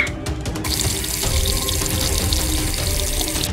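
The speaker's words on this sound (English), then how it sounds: "NEMI, pour some water in here." Water pours steadily from a tap into a toy dish in a children's play kitchen, a continuous loud splashing rush with no talking.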